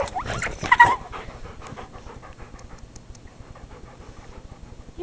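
A dog pants close by in quick, steady, rhythmic breaths that carry on through the whole stretch, loudest near the start and then softer but continuous.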